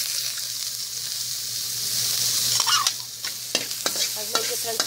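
Chopped onions hiss and sizzle steadily in hot oil in a pan while cooking a pork asado filling, with a few sharp stirring clatters near the end. Close and fairly loud, no talking.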